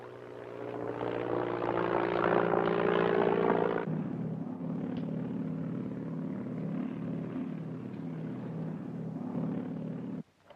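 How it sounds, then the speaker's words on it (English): A propeller airplane circles just off the coast, a loud, steady engine drone that drops in pitch and loudness partway through, then holds a lower throbbing hum until it cuts off near the end. "It seems like the plane's circling over here, just off the coast"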